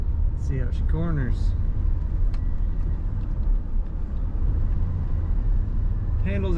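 A 1992 Dodge Ram 250 Chrystar conversion van rumbles along as it takes corners, a steady loud low engine and road drone inside the cabin, with brief squeaky speech-like sounds at the start and end.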